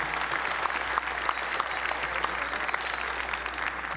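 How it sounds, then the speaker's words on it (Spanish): Audience applause for Obama at a Chávez rally with allied parties in Venezuela, a broad, steady wash of clapping from a crowd heard at moderate distance, with no voices on top. "vamos a darle un aplauso, se merece un aplauso, Obama"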